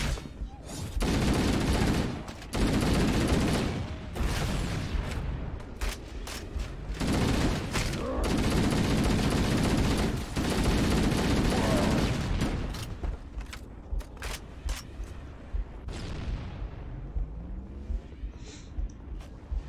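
Heavy booming cannon blasts in the video game Halo: Combat Evolved fire in rapid, repeated volleys, loud and dense at first, then thinning to scattered single shots toward the end.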